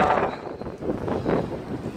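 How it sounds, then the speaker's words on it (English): Wind gusting across a microphone outdoors downtown on an overcast day, a steady broadband rumble that swells and buffets in uneven waves, loud and close, with no speech. "It is kind of windy here."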